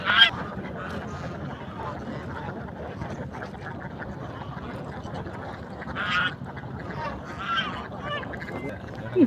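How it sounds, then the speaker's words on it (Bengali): Geese honking on a pond beside a village path, with a few louder calls standing out over a steady murmur of background noise and faint voices. "রাজহাঁস"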